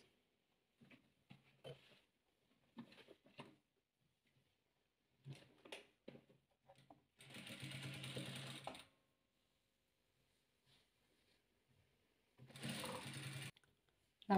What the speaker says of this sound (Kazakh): Енді осыны осылай тігіп аламыз.